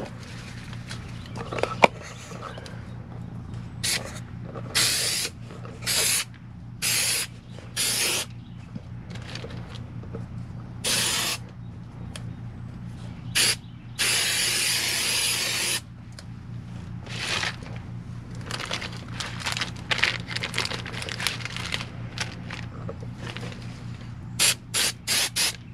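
Repeated short bursts of spray glue hissing from an aerosol can, irregular and close, with quiet gaps between each spray.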